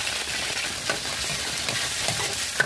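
Garlic and Century canned tuna sizzle steadily in hot oil, with a constant frying hiss broken by soft scrapes of stirring; close and fairly loud, no talking.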